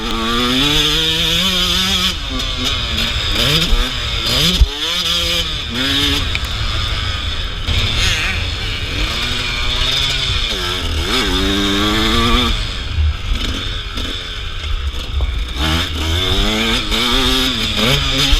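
An enduro dirt bike engine races around a sprint enduro course at Dutch Sport Park, loud and close throughout, revving up and down in repeated surges as the rider shifts through a rhythm section.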